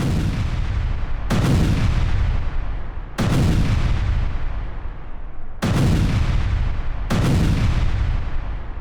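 Artillery fire from a military attack on Russian military camps in Soledar. Five heavy booms land several seconds apart, each with a long rumbling decay, loud and close.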